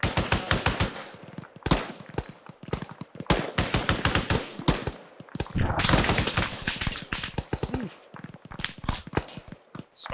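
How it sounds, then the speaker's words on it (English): Repeated bursts of machine gun fire in the military video game ArmA 3, rapid and fairly close, some bursts long and some short with brief gaps between them, with faint voices talking among the shots. "Mike, watch the fire rate, watch your fire rate"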